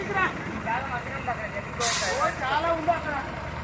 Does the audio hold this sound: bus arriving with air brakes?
yes